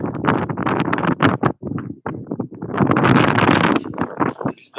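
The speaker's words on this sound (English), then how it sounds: "Oh, it's windy." Wind gusts hard against the microphone outdoors, a loud buffeting roar that surges and dips in uneven bursts.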